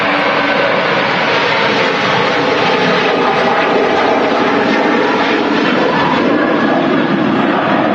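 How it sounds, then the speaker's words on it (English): A Ryanair Boeing 737 with retrofitted winglets roars loudly and steadily at Manchester Airport in the evening, a broad, continuous engine rush filling the scene with no voices. "a retrofitted winglets on this Ryanair 737."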